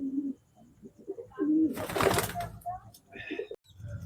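Pet pigeons in a hobbyist's loft cooing in low throaty bursts near the mic, mixed with a short rustle of wings or handling and people talking over them.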